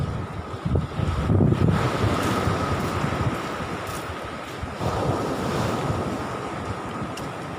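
Strong east wind and breaking surf at Nong Bua beach on a windward shore: a continuous loud roar of waves with gusty wind buffeting the microphone, and no voices.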